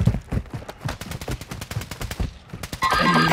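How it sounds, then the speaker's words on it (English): Rapid gunfire in a shooter game, a string of sharp, evenly spaced automatic shots, loud and close, ending in a denser burst of noisy clatter. "There are shots up there, I believe."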